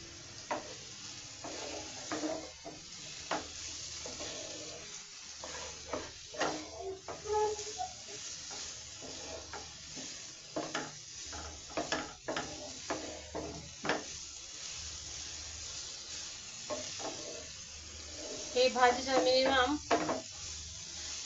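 Potato bhaji fries in a pan, giving a steady sizzle broken by repeated scraping stirs and clinks of a utensil against the pan, with a louder bubbling burst near the end.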